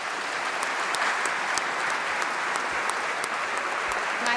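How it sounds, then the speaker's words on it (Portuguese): Steady applause from the PSD and CDS benches in the Portuguese parliament at Marcelo Rebelo de Sousa's presidential swearing-in, a continuous crackle of many hands clapping at moderate distance with no voices over it. "a estas palavras de agradecimento só reagem as bancadas do PSD e do CDS, aplaudindo o que acabou de dizer Marcelo Rebelo de Sousa"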